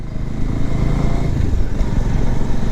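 A motorcycle engine runs close by while riding, a loud steady low rumble with slight rises and dips in pitch as the rider shifts gears and works the clutch.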